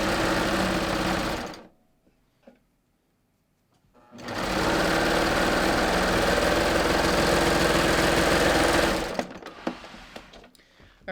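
A sewing machine stitches a short seam on lined leggings, with a loud steady whir for about two seconds, a pause, then a longer steady run of around five seconds before stopping, followed by a few faint handling clicks.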